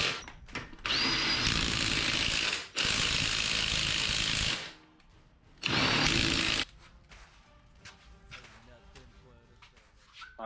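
Bursts of an impact wrench running lug nuts onto the wheels of an Integra during a clutch replacement, three loud buzzing runs of a couple of seconds each, separated by quieter shop clatter.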